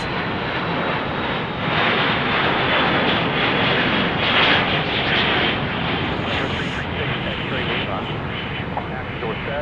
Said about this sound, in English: Checking out that Dassault Falcon taking off.